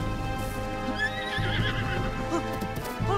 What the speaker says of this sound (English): this is a really pretty horse.